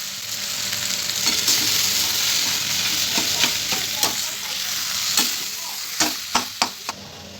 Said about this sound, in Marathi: आता आपण यामध्ये स्मॅश केलेला बटाटा टाकून घ्यायचा आहे आणि व्यवस्थित मिक्स करून घ्यायचं आहे